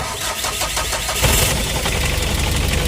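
A car engine on a vehicle with a suspect alternator and a battery that has sat unused for a week cranks in a rapid rhythmic pulse, then catches into a loud, rough, steady running roar, close by with no talking.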